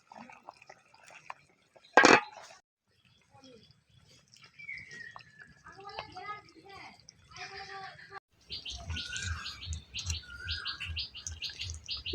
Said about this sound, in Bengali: 2-4 বার নেড়ে আমরা জল ঢেলে দেবো।